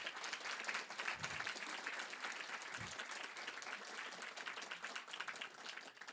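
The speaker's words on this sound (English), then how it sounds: "So could you please join me in really a huge round of applause for our first seven speakers?" An audience at a Three Minute Thesis grand final gives the first seven speakers a long round of applause, many hands clapping continuously but captured quite faintly, as if from a distance.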